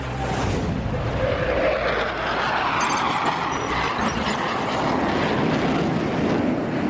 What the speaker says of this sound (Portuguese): Airbus A380, pronto para voar.